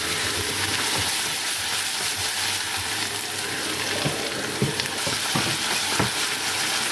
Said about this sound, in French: on va faire sauter cette pomme dans le beurre noisette une fois chaud